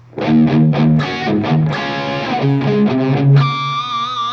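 A distorted electric guitar plays a short, punchy riff of repeated low notes, ending on a ringing chord; loud and alone.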